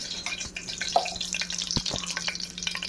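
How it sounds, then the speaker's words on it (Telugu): Garam masala frying in hot oil in a pan: a soft, steady crackling sizzle with small pops and a few light clinks, close and faint, with no talk. "అట్లాగే కొద్దిగా గరం మసాలా కూడా ఆయిల్లోనే వేసుకోండి."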